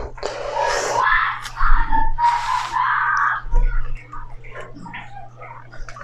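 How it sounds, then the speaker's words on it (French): Children shout and argue at home in loud, shrill bursts close by, screaming voices rising and falling with short pauses between outbursts. "Punaise, ça crie fort chez moi. Les enfants sont en train de se disputer, en fait."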